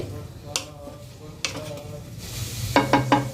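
Chopped onions frying in oil until browned for hilsa biryani, a close sizzle under scattered scrapes of a spatula, ending in three quick knocks against the pan, with no talking.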